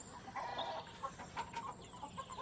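Hens clucking softly in a farmyard, a faint, scattered run of short clucks and murmurs spread over a couple of seconds.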